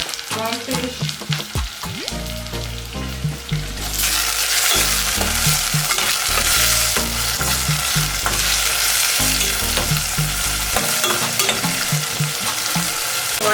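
Ground provision and saltfish sautéing in a pot with a loud, continuous sizzle that swells after a few seconds. Intermittent stirring clatter runs underneath, and no voices are heard.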